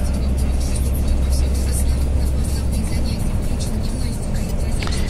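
Cab of a truck rolling along a Russian highway with no shoulder: a constant low engine and road drone with tire hiss, and someone talking over it.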